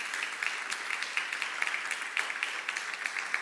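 Congregation applauding in a church service, a steady wash of many hands clapping at moderate distance, even and sustained throughout without speech.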